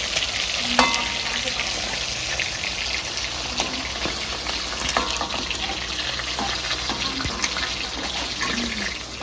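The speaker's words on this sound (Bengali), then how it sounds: "এই মাছ ভাজার তেলে মাছের ঝোল করব এই যে শুকনো লঙ্কা তেজপাতা জিরে জিরে ভাজা হয়ে গেছে" Dried red chilies, bay leaves and cumin crackle and sizzle in hot fish-frying oil, a dense steady hiss with occasional spoon clicks and pops throughout, no voices.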